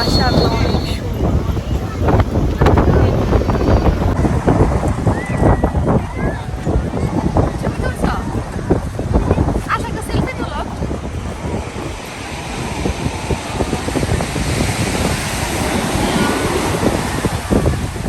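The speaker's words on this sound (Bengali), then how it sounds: "আজকের ঢেউগুলো মাশাআল্লাহ অনেক সুন্দর" Sea waves at Cox's Bazar beach roll and crash continuously in a loud, broad surf roar, with wind buffeting the microphone and a voice talking over it.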